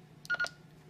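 A Midland G18 PMR446 walkie-talkie sends a call tone: two short, clear electronic beeps in quick succession, fairly close, over a faint background hum.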